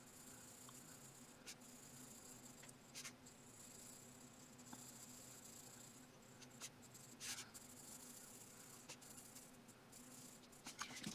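Faint, steady scratchy rasp of a colored pencil lightly shading skin tones on paper, a soft continuous texture with occasional small taps, heard alone without talk.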